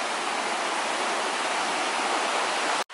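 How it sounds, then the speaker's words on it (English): A mountain stream water source on a backpacking trail in the Great Smoky Mountains rushes as a steady, close, full hiss of flowing water, cutting off abruptly just before the end. "Here's the lovely water source."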